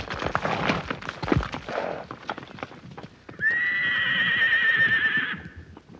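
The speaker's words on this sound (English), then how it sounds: "The stallion joins his family group" A wild brumby stallion in rough country gives a loud, drawn-out whinny after a few seconds of hoof clops as it walks nearby.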